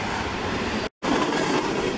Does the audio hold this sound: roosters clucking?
no